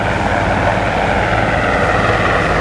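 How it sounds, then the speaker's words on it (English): A Navy or Marine military helicopter roars loudly and continuously overhead, a dense broadband rotor and engine noise with no voices. "Navy helicopter, a Marine helicopter"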